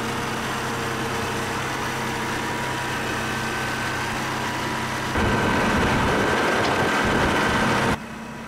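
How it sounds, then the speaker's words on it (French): A vineyard tractor idles at a standstill, a steady low engine drone that rises a little louder for a few seconds near the end before settling back. "le tracteur s'arrête exactement au point GPS défini, soit tous les 5 mètres"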